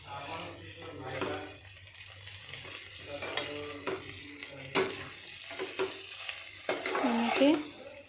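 Mustard greens (lai) being stirred into meat frying in oil in a pan, with scraping and sizzling strokes at a steady pace, louder bursts toward the end, while a voice speaks faintly at times.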